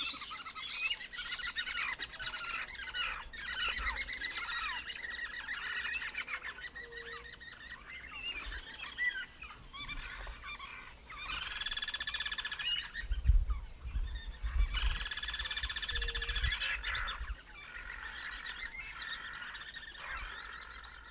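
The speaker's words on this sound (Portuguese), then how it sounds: "Depois filmei um bando de anu branco fazendo um arrastão numa rua." A flock of white anis (anu branco) foraging along a street, calling in a busy chorus of high, squealing whistles and chattering notes, with two louder, longer bursts near the middle against a faint background rumble.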